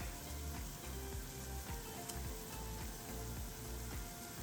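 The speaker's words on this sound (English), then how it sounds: "green pepper and yellow onion to the ground beef so that they can cook together" Ground beef sizzles and fries in a pan together with chopped green pepper and yellow onion, a steady, close crackling hiss with small pops running throughout.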